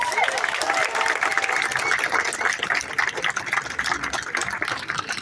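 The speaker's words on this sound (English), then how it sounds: "So let's give that a big round of applause" Outdoor crowd applauding a retiring Type 1 TriMet MAX light rail car in Portland, steady loud clapping mixed with background rumble and chatter, continuing for several seconds.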